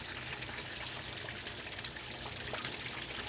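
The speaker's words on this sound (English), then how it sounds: "the apparent calm of this bowl of water is soon pierced by a growing whirlpool" A growing whirlpool churns in a bowl of water, giving a steady, close trickling and pouring rush that stays even throughout with no voices.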